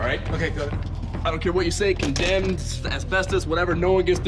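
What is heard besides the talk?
No everyday noises stand out.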